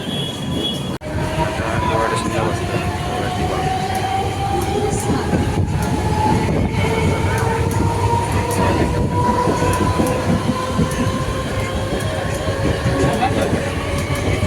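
Tutari Express train at Diva station on a crowded festival-season run: a loud, continuous rail rumble with a steadily rising metallic wheel squeal, heard close for the whole stretch.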